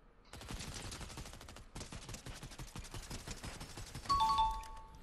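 Rapid automatic gunfire crackles in Fortnite, a dense run of shots with a brief break, then more bursts, followed by a couple of short tonal game beeps near the end.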